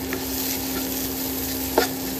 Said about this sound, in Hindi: अंडे को अच्छे से एकदम फ्राई करना पड़ेगा।